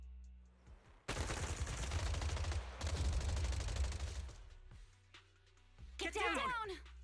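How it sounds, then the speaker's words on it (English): Gunfire in Zenless Zone Zero: loud bursts of rapid automatic shots in two sustained volleys, followed by quieter mechanical sounds and a whooshing sweep near the end, with voices talking between. "Oh, I heard a gunshot."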